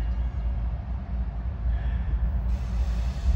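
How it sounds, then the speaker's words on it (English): A Norfolk Southern double-stack container train led by Union Pacific locomotives rolls past in Decatur, Alabama, a steady low rumble and rattling of wheels and cars, continuous and fairly close without voices. "We've got a Norfolk Southern stack train coming with UP power on the head."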